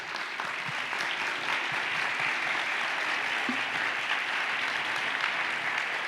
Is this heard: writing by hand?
no